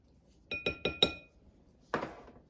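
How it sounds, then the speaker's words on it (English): A metal teaspoon clinks four times in quick succession against a glass bowl while seasoning goes into a sarma filling, followed by one more clink a moment later, close and clear with no talking. "I'm gonna put some 1 teaspoon seasoning"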